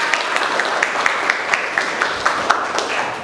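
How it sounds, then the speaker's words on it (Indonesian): A teaching-practice class gives a short round of applause, fairly loud and steady, with a few sharper claps standing out from the even patter. "Tepuk tangan untuk kita"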